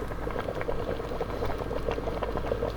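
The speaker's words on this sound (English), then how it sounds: "Just mix everything up and let it come to a boil." A pot of baked potato soup comes to a boil with steady, thick bubbling and popping, heard close up and continuously with no voices over it.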